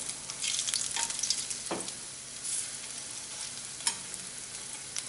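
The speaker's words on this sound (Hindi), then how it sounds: "अब हम धीरे धीरे कोफ्तों को पलटना शुरू करेंगे।" Lauki koftas frying gently in oil over low heat, a soft continuous sizzle with a few scraping clicks as they are turned over, close up with no voices.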